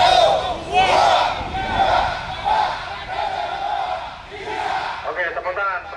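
A group of firefighters shouts a counted chant together at a Pancasila Day ceremony, with loud overlapping voices in rhythmic bursts rising and falling over about six seconds.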